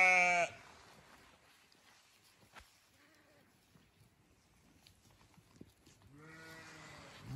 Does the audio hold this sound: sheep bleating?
yes